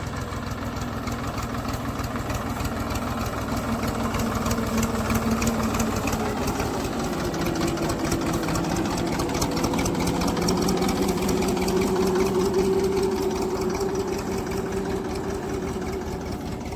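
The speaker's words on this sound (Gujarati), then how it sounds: "સાથે ટ્રેક્ટર પણ આવી ગયું છે" A tractor engine idles steadily nearby during a groundnut threshing job on a farm, a constant low rumble with rapid chugging throughout and no voices.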